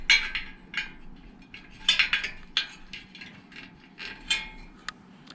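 BMX wheel spokes are tightened during wheel building, giving off repeated small metallic clicks and ratcheting ticks at an irregular pace, close and crisp against a quiet background.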